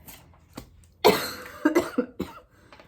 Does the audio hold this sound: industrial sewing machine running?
no